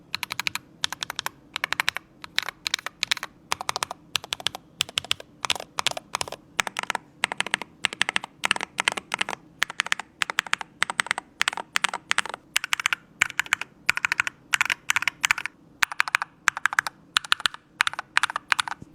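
Rapid, crisp keystrokes on a keyboard fitted with factory-lubed Titan Miami magnetic switches with POM stems, clattering in quick bursts with brief pauses throughout, close and clear without any voices.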